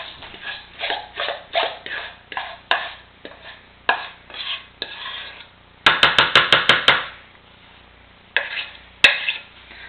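A spatula scrapes thick batter from a bowl into a sprayed mug. Short scraping strokes come up close in irregular groups, with a quick flurry of rapid scrapes midway and a couple of final swipes.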